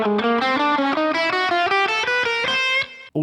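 Guitar finger independence exercise with fingers pressed in sequence, a steady stream of quick picked notes through a distorted, effected tone, loud and continuous for about three seconds before stopping abruptly.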